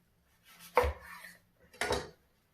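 A knife cutting into baked lamb and eggplant pirashki pastries on a plate, two separate crisp scraping cuts about a second apart, close and fairly quiet with silence around them.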